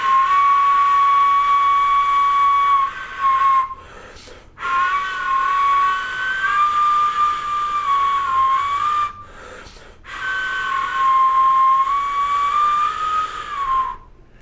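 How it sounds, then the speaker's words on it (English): Thin, airy whistling tones from a trombone mouthpiece, held in long wavering pitches with short breaks between three breathy phrases. "You can get these weird, ambiguous kind of whistle sounds,"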